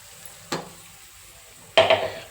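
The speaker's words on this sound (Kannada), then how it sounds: "ಈಗ ನಾವು ಆಲ್ರೆಡಿ ಗ್ರೈಂಡ್ ಮಾಡಿ ಇಟ್ಕೊಂಡ್ರೆ ಮಸಾಲ ಪೇಸ್ಟ್ ಹಾಕ್ತಾಯಿದ್ದೀನಿ" Ground masala paste drops into a pan of fried onions for egg curry: a soft thud, then a second louder slap and sizzle as the paste hits hot oil, no voices.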